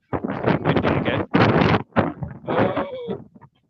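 Gusty wind buffets the microphone outdoors in Bruges, giving loud, rough low rumbling bursts in uneven waves, close and dominant throughout.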